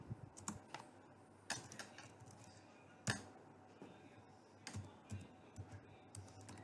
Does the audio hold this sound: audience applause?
no